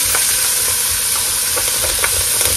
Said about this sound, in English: we're just sauteing these vegetables a little bit